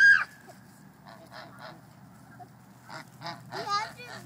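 Geese honk nearby in scattered, harsh calls, with a louder burst at the start and a noisy cluster near the end over a faint background hum.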